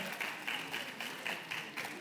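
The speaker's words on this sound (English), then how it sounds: "Let's clap for them now" Applause for the ministers at a wedding, a soft, distant crowd clapping in steady repeated swells with a voice faintly underneath.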